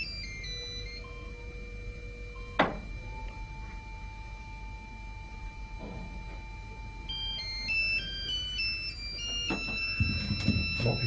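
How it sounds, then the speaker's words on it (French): A mobile phone rings at a French lecture on Zionism, a repeating electronic ringtone heard alone at moderate level with some room noise, continuing for several seconds. "il faut que j'arrête mon portable."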